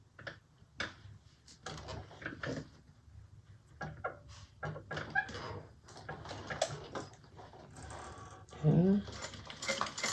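Sewing machine top stitching a fabric bag: a steady mechanical whirr and ticking run under scattered clicks and handling noise, with a brief spoken word partway through.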